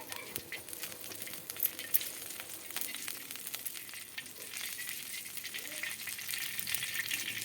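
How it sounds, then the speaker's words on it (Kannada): Oil hitting a hot tava pan set up for frying fish gives a steady hissing sizzle with faint crackles and small metallic clinks, moderately quiet, with no voices. "ಹಾಗೆ ಸ್ವಲ್ಪ ಎಣ್ಣೆನ ಹಾಕ್ಕೊಳ್ತಾ ಇದ್ದೀನಿ ಹಂಚ್ಕಾದ್ಮೇಲೆ"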